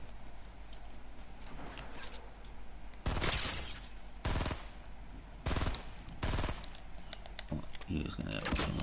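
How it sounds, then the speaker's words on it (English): Gunfire in the Fortnite video game, heard as several loud, separate shots or short bursts spaced a second or so apart over a steady background, with a voice talking at times. "Someone firing back here."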